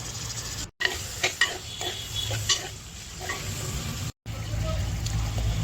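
Potatoes hit a hot pan for a dried-prawn and potato curry and fry with a steady, close sizzle, with stirring scrapes and clatter on top and two brief dropouts in the sound.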